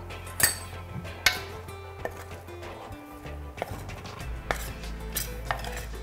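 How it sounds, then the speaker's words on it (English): A spoon scrapes caramelized bits off the bottom of a pan while making cauliflower and chickpea curry, giving a few sharp metallic clinks and scrapes over a low steady background hum. "And now I like to scrape the bottom of the pan to get those caramelized bits off"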